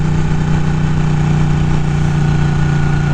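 A Ducati Panigale 1199S Tricolor motorcycle engine runs in a steady, loud, dense drone, heard close throughout without speech.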